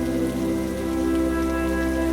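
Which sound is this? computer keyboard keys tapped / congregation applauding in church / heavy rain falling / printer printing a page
heavy rain falling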